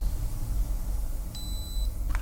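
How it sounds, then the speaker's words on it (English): A Univiso Spark powering on: a short electronic beep, a steady high tone lasting about half a second, followed by a brief click, over a quiet hum. "until you hear that neat signature beep"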